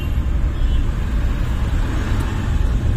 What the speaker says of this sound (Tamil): அது எக்ஸேட்டை மிதிச்சா மட்டும்தான் அது உருமுறை சவுண்டு வரும்